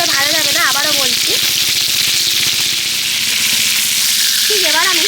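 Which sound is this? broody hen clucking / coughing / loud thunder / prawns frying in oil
prawns frying in oil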